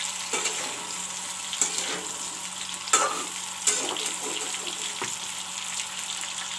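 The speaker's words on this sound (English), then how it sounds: "of all I am frying the broccoli and the potato." Broccoli and potato fry in oil in a karai, a soft, steady sizzle broken by occasional clinks and scrapes as the pieces are stirred.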